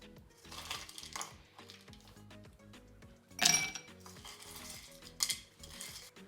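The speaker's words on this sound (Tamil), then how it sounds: "முதல்ல ஐஸ் கட்டியை சேர்த்துக்கொள்ளுவோம்." Ice cubes dropped into a serving glass while making a strawberry shake, a few sharp clinks and rattles over quiet background music.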